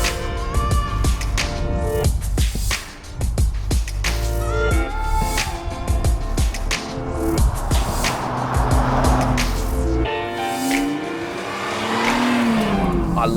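A Nissan GT-R Nismo drives hard, its engine revving and roaring through gear changes, with tires squealing at moments; loud and close throughout.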